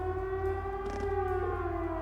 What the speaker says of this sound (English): That's a siren, Rain.